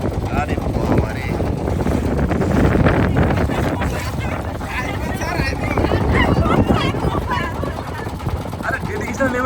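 Passenger boat moving along a river in strong wind, a continuous rumbling rush of wind and water with excited people talking and calling out over it.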